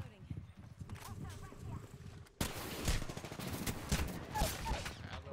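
Gunfire in Apex Legends, sharp repeated shots growing louder midway through, with a player talking over the action.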